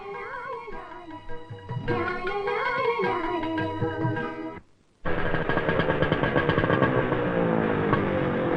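A motorcycle engine idles and revs with rising and falling pitch, cuts out briefly, then roars back louder and rougher.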